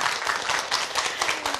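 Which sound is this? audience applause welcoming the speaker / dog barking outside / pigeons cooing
audience applause welcoming the speaker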